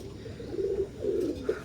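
Teddy pigeons, an imported Oman bloodline, a male and a female in moult, give low soft coos in two or three short phrases, close and clear over quiet background noise.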